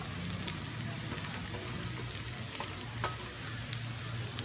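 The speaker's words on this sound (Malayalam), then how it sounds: "ഇതിനെ നമുക്കിനി നന്നായിട്ടൊന്ന് വഴറ്റിയെടുക്കണം." Shallots and sliced onions sauté in hot oil in a pan for a Kerala-style mutton curry, giving a steady close sizzle with a few soft stirring scrapes and no talk.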